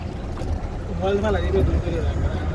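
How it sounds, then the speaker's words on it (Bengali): A speedboat engine starts up at Patenga sea beach in Chittagong, a rising motor drone heard under people talking nearby, with steady low rumble throughout. "স্পিড বোট ছেড়ে দিছে পতেঙ্গাতে"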